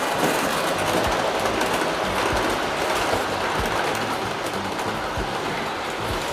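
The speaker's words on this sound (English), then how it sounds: "here comes a train right down the track" A train rumbles past close by, with a steady roar and regular clacks of wheels over the rail joints.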